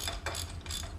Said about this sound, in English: I'll just loosen these 3 square-headed set screws on this side